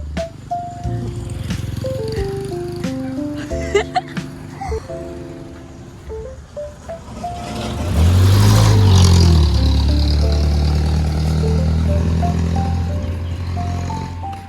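Motorcycle passing by on a road, rising from a distance to a loud, close engine roar that dips in pitch as it goes past, then fades; lighter traffic sounds come before it.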